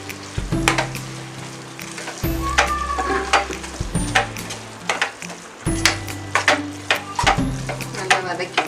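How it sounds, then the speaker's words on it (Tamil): Egg gravy masala with tomato and chili powder sautéing in a pan, a steady close sizzle broken by repeated scraping stirs of a spoon against the pan, with someone speaking over it. "நல்லா வதக்கி விட்டுருவோம்"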